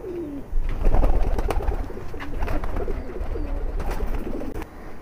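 High flyer pigeons cooing in a loft, soft repeated coos overlapping one another at close range amid rustling and small knocks.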